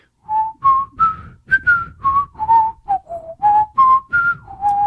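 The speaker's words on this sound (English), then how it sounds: "the new collector is walking down the road whistling." A person walking down a road whistles a bright, wandering melody of short held notes, clear and close, with steady phrasing and no talking.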